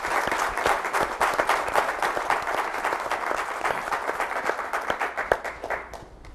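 A room of people at a town mayor and aldermen meeting applauds steadily for about six seconds, a dense run of close claps that stays fairly even before tapering off at the end.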